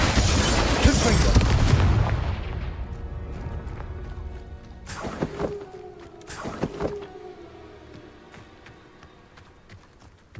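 A Confringo explosive spell in Hogwarts Legacy goes off with a heavy blast and rumble at the start, then two sharp cracking impacts follow mid-scene, each trailing a ringing tone, fading to quieter game ambience.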